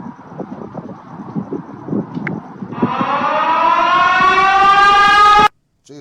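Siren Head's siren wail, a loud civil-defense-style tone, rises in pitch over rumbling, wind-buffeted noise, holds steady and strong for several seconds, then cuts off abruptly.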